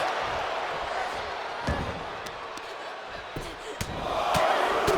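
A drop kick impact lands in the WWE 2K25 wrestling game, a couple of sharp slams standing out over a steady arena crowd roar, with more thuds following.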